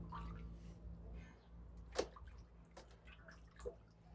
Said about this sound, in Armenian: Այս ջրերն են լսվում են ծառերի տակ։